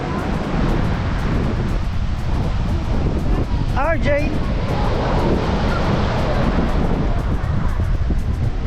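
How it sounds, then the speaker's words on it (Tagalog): Strong ocean waves surge and crash continuously at Puka Shell Beach on Boracay, a loud, dense roar mixed with wind buffeting the microphone, while a voice briefly shouts partway through. "Lakas ng alon dito."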